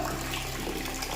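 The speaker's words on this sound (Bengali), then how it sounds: "ওর বাবা বাথরুমে কল ছেড়ে গেছে" A bathroom tap runs steadily into a filling tub or bucket, a dense continuous gush of water heard close and alone, with no pauses or voices.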